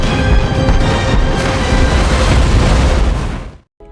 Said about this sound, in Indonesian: pesawat itu langsung melepaskan bom air ke arah kapal selam U-boat Jerman itu berada